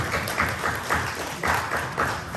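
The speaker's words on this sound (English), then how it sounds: "Please give a round of applause for our Mustangs." A crowd claps steadily for the Mustangs at a bridging ceremony, a dense, sustained wash of applause that swells in waves about every half second.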